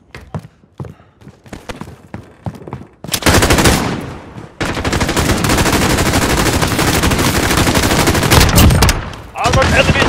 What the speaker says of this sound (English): Oh, that was an RPG.